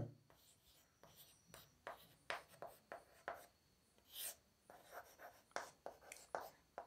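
Chalk or marker writing a heading on a classroom board during a physics lesson, faint scratchy strokes in short irregular bursts.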